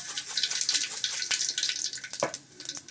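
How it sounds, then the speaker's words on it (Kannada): Mustard seeds hitting hot oil in a pan for a South Indian tomato saaru, giving a dense, steady crackling sizzle with rapid popping spatters close by. "ಈಗ ಎಣ್ಣೆ ಬಿಸಿಯಾಗಿದೆ, ಸಾಸಿವೆ ಹಾಕ್ಕೊಳ್ತೀನಿ."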